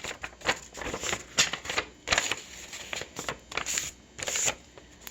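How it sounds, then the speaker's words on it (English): A sheet of paper is folded and creased close by, giving a series of crisp rustles and sharp crackles in an irregular rhythm with short quiet gaps. "Then I'm going to fold it again from the 6 up to the 12."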